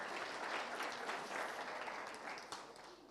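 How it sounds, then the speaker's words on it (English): Audience applause closing a startup pitching competition final, a dense, steady wash of clapping from a large crowd that stays loud throughout, tapering slightly near the end. "give him a huge round of applause"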